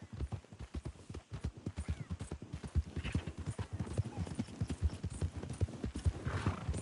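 Steady clip-clop of horse hooves in a Western-style video game, a fast rhythmic run of hoofbeats that continues throughout at moderate distance, with a faint whinny.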